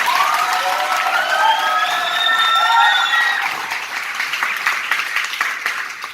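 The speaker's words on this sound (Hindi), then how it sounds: "दूसरी ताली आप प्रभु के दास पास्टर बाबू भंडारी के लिए अच्छे से बजा दीजिए" A church congregation applauds for a pastor, a dense, sustained round of clapping that swells and then tapers slightly over several seconds, with faint voices mixed in.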